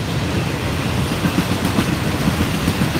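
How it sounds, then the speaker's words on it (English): A long freight train of mostly empty cars rumbles past close by, a continuous loud roar with rhythmic clattering of wheels on the rails. "Yes, the train is omnipresent."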